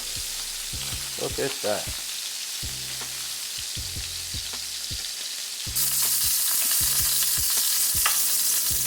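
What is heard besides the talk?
steak bites searing in a skillet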